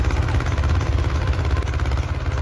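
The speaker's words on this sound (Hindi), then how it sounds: "बड़ा तगड़ा ट्रैक्टर" A big Mahindra two-cylinder tractor engine runs loud and close with a steady, heavy throbbing rumble, pulling an 11-tine implement, and no voices are heard.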